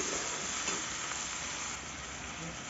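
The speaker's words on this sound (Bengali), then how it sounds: "টমেটোটা যতক্ষণ গলে না যাচ্ছে ততক্ষণ আমি ভেজে নেব" Tomatoes fry in a pan for a mixed dal, giving a steady, close, continuous sizzle with no pauses.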